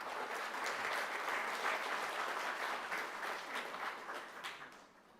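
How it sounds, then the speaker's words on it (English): An audience at a diaspora forum for Dominica applauds steadily, the dense clapping holding at an even level for about five seconds before fading slightly at the end. "Let's give him a round of applause."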